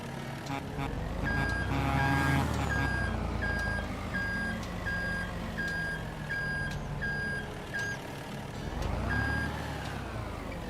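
A truck in a farming simulator game reverses with a loud, regular series of electronic backup beeps over a steady engine drone, pausing briefly and then resuming near the end.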